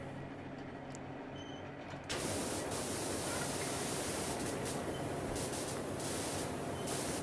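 A pressure washer sprays steadily in the video game PowerWash Simulator, a loud continuous hiss that starts abruptly and holds.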